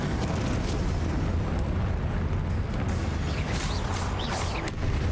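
Incendio fire spell cast in the Hogwarts Legacy video game, a dense roaring burst of fiery crackle and rumble sustained loudly throughout, with bright whooshing flares toward the end and no talk.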